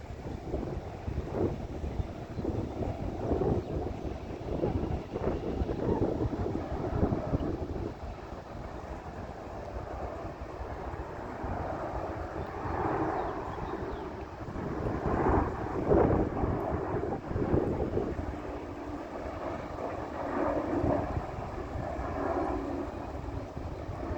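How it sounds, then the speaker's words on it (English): An airplane passes overhead on approach to land at a nearby airport, a broad, steady rumbling roar that swells and fades outdoors, with wind buffeting the microphone and no talk. "Another airplane coming."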